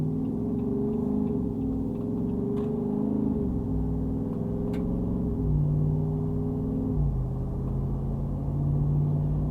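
A 2022 Jeep Wrangler Unlimited Rubicon 392 V8 drones steadily from inside the cabin while driving, its engine note stepping down in pitch at a few distinct points as the transmission shifts, with faint ticks over the low rumble and no talk.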